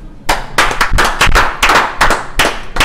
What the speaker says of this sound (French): la tradition voudrait qu'on applaudisse